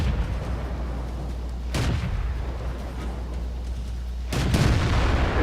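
Two tank cannon shots from a Su-100Y tank destroyer in the World of Tanks video game, heavy booming blasts about two and a half seconds apart over a steady low engine rumble, with no talking.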